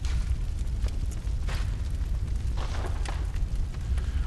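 A cannon fires in Bloodborne over a constant loud rumbling bed, its booming blasts landing in a few separate bursts without any talk.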